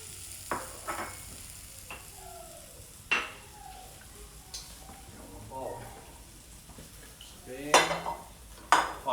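Leeks sauté in olive oil in a pan for carrot cream soup, giving a soft sizzle under intermittent speech, with sharp clinks of a utensil against the pan scattered throughout.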